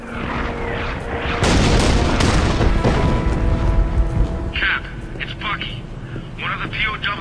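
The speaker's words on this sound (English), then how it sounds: "All right, Gabe, stand by for initial fire order." An artillery barrage in the Captain America: Super Soldier video game, with deep, heavy booms rolling together into loud, sustained rumbling, while voices talk over the bombardment.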